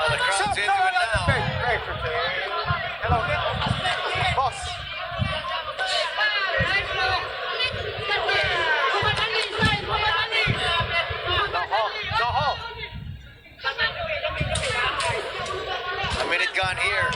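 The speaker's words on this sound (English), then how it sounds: "Oh, the crowd's into it now." The crowd at a boxing match in Manila, Magramo versus Robles, roars and shouts in steady waves, with repeated thumping beats and close commentary voices running over the noise.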